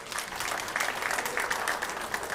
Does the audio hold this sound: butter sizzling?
no